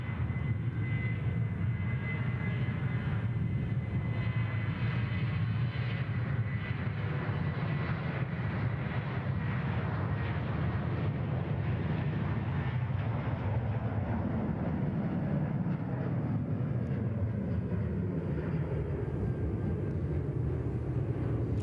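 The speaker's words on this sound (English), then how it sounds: "We'll enjoy this 737-700 departure." A Boeing 737-700 jet departs Sydney Airport, its engines a loud, steady roar that holds for the full stretch with a broad rumbling low end and a faint high whine, with no voices over it.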